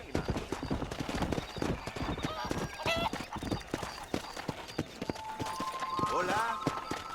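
Horse galloping in the video game Red Dead Redemption, a steady, close clip-clop of hooves with a whinny and jingling tack, while a voice talks over the riding.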